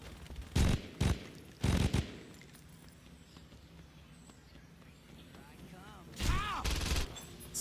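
Bursts of gunfire in the video game Saints Row 2, several loud clusters of rapid shots early on and again near the end, separated by quieter game ambience.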